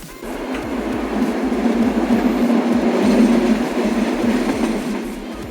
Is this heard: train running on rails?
yes